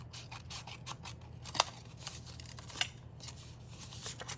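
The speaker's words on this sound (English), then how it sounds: "So I'm just going to take my snips and even that off." Metal snips trim the paper overhang of a folded lunch box note, a few crisp close cuts and soft paper rustles, quiet and without talk.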